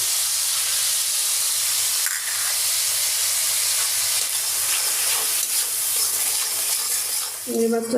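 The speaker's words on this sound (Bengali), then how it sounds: "ভালো করে কষিয়ে নেব মাছটা" Fish sautés in a pan with turmeric, chili powder and salt, giving a loud steady sizzle and hiss, with a brief stirring scrape near the end.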